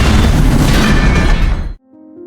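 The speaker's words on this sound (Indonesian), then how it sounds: "mereka meledakkan pagar besi yang menghalangi brankas tersebut" A film explosion blasting apart an iron fence guarding a vault: a loud, close, roaring boom that fills the space for over a second and a half, then cuts abruptly to a faint low tone.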